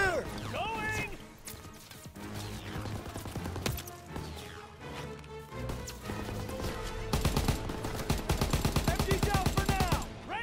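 Rapid bursts of machine-gun fire and scattered gunshots in a war video game, dense and fairly loud throughout, building into a sustained rattling volley near the end, with shouted game voices and music in the mix.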